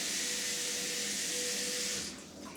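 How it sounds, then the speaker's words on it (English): Water runs steadily from a kitchen tap into a cooking pot, an even, close hiss and splash that cuts off near the end, leaving a quieter drip and settle. "add some more water"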